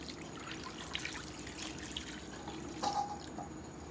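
Water trickles and drips softly as it is added to a yarn dye mixture, a faint, steady pour with a brief louder splash near the end and no talking.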